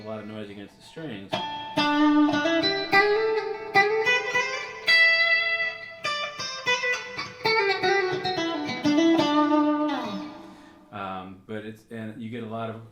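Electric guitar strings are plucked with a British silver sixpence used as a pick. The notes ring out with bright, edgy harmonics in a run of phrases, broken by a short pause before a few final plucks.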